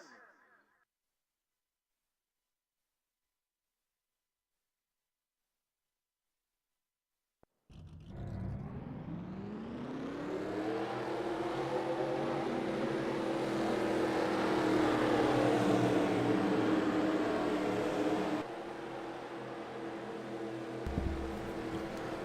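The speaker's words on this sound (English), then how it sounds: "Drivers, start your engines." Race car engines in a NASCAR-style cup series racing video game at the Sawmill track fire up after several seconds of silence, then a field of cars rumbles and revs steadily, loud and continuous with a low droning roar.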